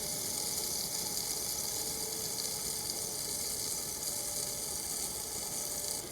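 Quiet, steady trickle of water pouring continuously into a plant pot, a soft hiss with faint gurgling and no voices.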